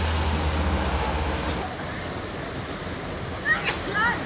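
Water pours steadily at Boriphat Waterfall in Songkhla, a broad, continuous rushing wash heard up close, with a low rumble fading early on and a few brief sounds near the end.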